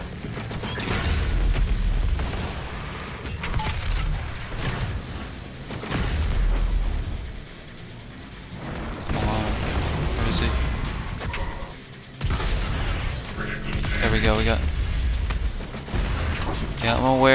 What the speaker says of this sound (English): That's my super shotgun.